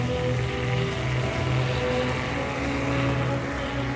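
Steady propeller engine drone of a seaplane in an Alaskan seaplane town, a continuous, fairly loud hum with low tonal layers and a slight wind-like hiss, no talk over it.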